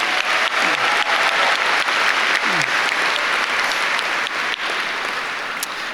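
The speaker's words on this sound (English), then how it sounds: "Please join me in a round of applause for all of our top 10 students." Loud, sustained applause fills a high school graduation ceremony for the Matoaca High School Class of 2024, with steady dense clapping from a large audience throughout.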